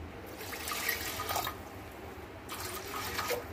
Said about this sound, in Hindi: मैंने इस बाउल से लिया था तो 2 बाउल में पानी डालूंगी।